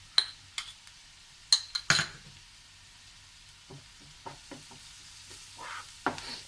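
Green chili, ginger and garlic sautéed in a pan for a Malabar omana pathiri filling, soft sizzle under intermittent sharp spatula scrapes and clinks against the metal, fairly quiet with gaps between strokes.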